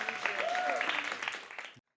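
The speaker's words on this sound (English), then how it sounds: "give a nice little round of applause for Maya" An audience gives a round of applause at an open-mic spoken-word show: dense, steady clapping for under two seconds, with a voice briefly audible over it, then a sudden cut to silence.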